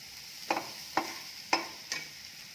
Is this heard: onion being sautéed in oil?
yes